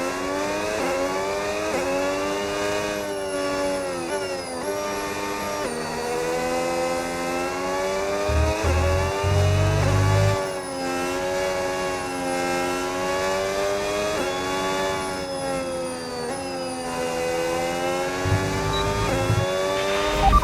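A Red Bull RB22 Formula 1 car in the F1 26 video game at the Barcelona Grand Prix, its hybrid engine screaming loudly and steadily with rising and falling pitch through gear changes. Short deep low thumps appear twice.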